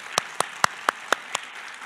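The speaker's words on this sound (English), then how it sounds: "How about one more round of applause for Dr." Sparse clapping at a diversity symposium after a keynote address, six distinct, evenly spaced hand claps ringing out crisply over a quiet room.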